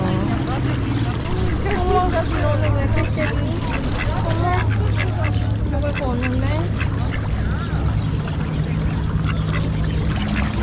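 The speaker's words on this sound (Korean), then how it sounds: "뭔가 쟤네가 오리 내쫓은 것 같아" Ducks at a lakeside village in Sirmione, Italy, quacking repeatedly at close range over a constant outdoor rumble, with people talking nearby throughout.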